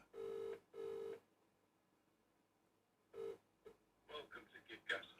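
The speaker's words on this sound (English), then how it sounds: "Answer the phone" A telephone rings twice in two evenly spaced electronic bursts, then once more briefly, fairly close, followed by muffled voices and handling noises.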